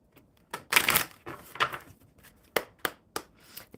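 A deck of oracle cards is shuffled close by, quiet papery riffles and soft flicks followed by a few sharp separate snaps of cards being squared or tapped.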